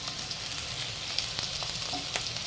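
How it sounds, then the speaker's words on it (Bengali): Chopped garlic and ginger sizzling in hot oil for a fish curry, a steady close crackle and spit throughout with no talking. "দিয়ে ভালো করে ফোড়নটা হালকা ভাজা হয়ে গেছে"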